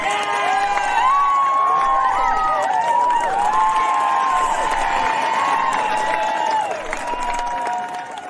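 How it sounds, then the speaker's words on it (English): Audience applause mixed with cheering and excited shouts, including children's voices, fills a hall with sustained loud clapping that fades slightly near the end after a round of applause for a youth team. "Everyone, give a big round of applause for the Marvelous 11."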